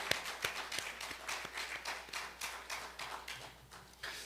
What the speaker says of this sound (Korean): 깨닫는 분만 박수를 쳐요.